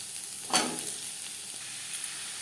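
Garlic, onion, green chilli and carrot frying in a pan after lentils for a carrot tomato chutney. A steady close sizzle with one brief scrape or stir near the start.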